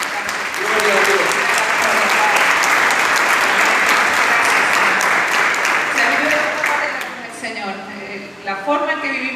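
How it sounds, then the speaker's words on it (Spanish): A church congregation claps loudly and continuously during a service, a thick sustained roar of hands that fades near the end as a voice begins speaking over the last scattered claps. "Le damos un aplauso al Señor."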